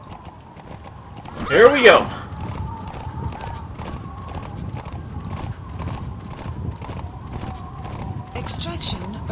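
Horse hooves in Metal Gear Solid V beat out a steady, even clip-clop at a riding pace. A brief excited voice and a short whinny-like burst rise over them near the start.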